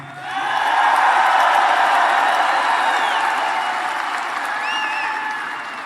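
Rally crowd applauding and cheering loudly at a Trump campaign rally in Toledo, Ohio: a dense, sustained wash of clapping that swells in and stays full for several seconds, with a few whistles near the end, then eases slightly.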